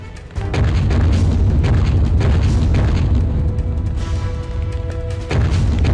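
Loud, booming blasts of cannon fire roar in a game soundscape, with a heavy rumbling barrage that dips briefly before another blast.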